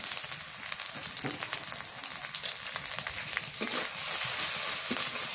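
Ground spices sizzling in oil for a Bengali fish curry masala with chili, turmeric and cumin powder, a steady close frying hiss with faint scraping stir clicks throughout, no talk.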